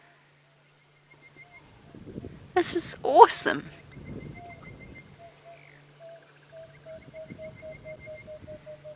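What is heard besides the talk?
southern boubou bird calling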